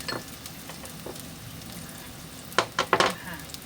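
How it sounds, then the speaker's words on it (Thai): Garlic fries quietly in oil in a wok for Thai stir-fried morning glory, a soft steady sizzle ending in a few sharp clinks and scrapes of a utensil against the pan. "เราก็เจียวกระเทียมนะคะเจียวกระเทียมไม่หอมเลย"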